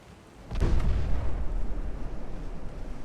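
Naval gun fire in a warship battle game: a single heavy boom bursts out, followed by a long rumbling roll that stays loud and low for several seconds.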